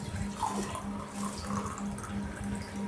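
Mutton pieces are rinsed under a running kitchen tap, producing a steady, close splash and gush of flowing water for the whole short stretch.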